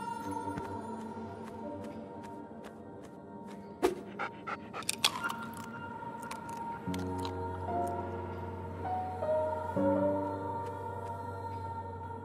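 Dog panting inside the video game Dreams, with a steady rhythmic pant alongside game music and a few sharp squishy clicks.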